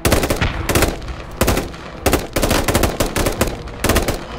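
Sustained suppressing gunfire in the military shooter game Squad, a French Foreign Legion squad under ambush: rapid loud bursts of automatic rifle and machine-gun fire, repeated in quick clusters with no gaps of quiet.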